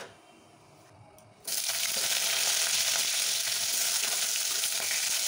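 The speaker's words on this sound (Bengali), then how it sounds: "এবার আমটাকে দিয়ে একটু নাড়াচাড়া করবো" Mango pieces and white mustard seeds hit hot oil and break into a loud, steady sizzle close up after a quieter opening second, then keep frying evenly to the end.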